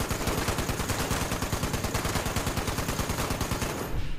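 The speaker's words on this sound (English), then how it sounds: "That is a 50 cal machine gun." Rapid, loud machine-gun fire from a .50 cal in Fallout 76, a dense unbroken rhythm of heavy shots hammering away for about four seconds before cutting off abruptly at the end, with no talking over it.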